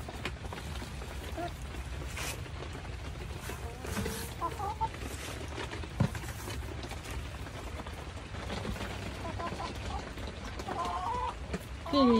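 Several chickens cluck softly nearby as they peck at corn, amid outdoor rustling and light tapping, with occasional louder clucks toward the end.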